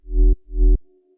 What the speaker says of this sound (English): So the sound without any effects, just the two wavetable sound like this.